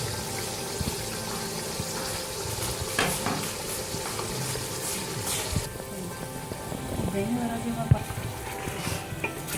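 Chicken korma with yogurt and ground onion being stirred in a pot, a steady wet scraping and gentle sizzle running throughout at moderate level, with a faint tap-like splash and a brief clink near the end.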